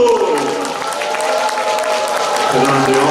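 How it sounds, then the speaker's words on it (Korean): An audience at a year-end thanksgiving gathering at a Buddhist meditation centre breaks into loud, continuous applause that sustains throughout, with cheering and voices mixed into the crowd noise. "다 함께 큰 박수로 선생님 노래 소개해 드리도록 하겠습니다"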